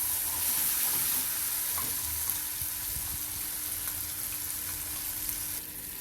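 Ground masala sautés in hot oil for a spring onion and tur dal curry, giving a soft, steady sizzle with faint stirring scrapes. Close and quiet, with no talking.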